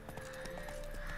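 A horse gallops in The Witcher with quick, even hoofbeats under a faint steady tone from the game, fairly quiet and continuous throughout.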